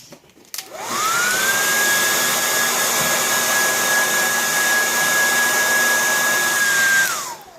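A hair dryer blows steadily after a click on, a loud, even whoosh with a high whine for several seconds before it winds down.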